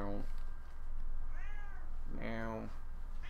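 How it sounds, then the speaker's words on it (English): A cat meows twice, clear harmonic calls close by, over a steady low hum from a For Honor game session. "there's a cat"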